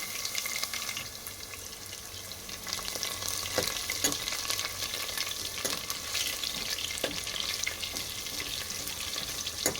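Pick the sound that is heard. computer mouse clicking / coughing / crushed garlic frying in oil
crushed garlic frying in oil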